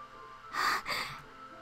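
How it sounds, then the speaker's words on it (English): Sharp hiss of breath sucked in through teeth inside a video game, a short loud inhale in two quick surges against quiet background hum. "A sharp inhale, like someone is sucking the air through their teeth."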